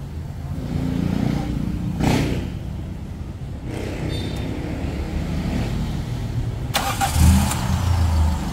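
The engine of a project car cranks and starts, then settles into a steady, loud idle close by, with a brief higher rev burst and some background noise.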